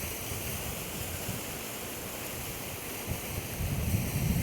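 Small West Michigan creek swollen almost to overflowing after a week of heavy rain, rushing water roaring as a loud, constant broadband wash, with gusts of wind noise rising near the end.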